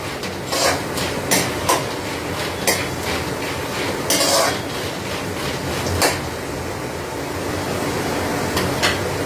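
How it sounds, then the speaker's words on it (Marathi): Roasted puffed rice (bhadang) stirred in hot oil in a metal pan: repeated scraping and clattering strokes of the spoon against the pan over a continuous low sizzle, close and fairly loud. "तेलामध्ये असे छान परतून घ्यायचे."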